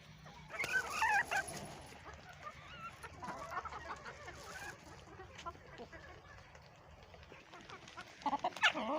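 Quiet, scattered clucks and squawks from chickens and a large black rooster in a backyard coop, with a dog whimpering, someone speaking nearby and brief louder bursts of calling.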